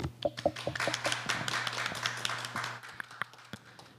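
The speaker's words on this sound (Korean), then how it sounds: "큰 박수 보냅니다" A small audience at a national student 4-H reading-and-debate contest final claps with scattered, uneven hand claps over a low steady hum. The applause tapers to a few isolated claps by the end.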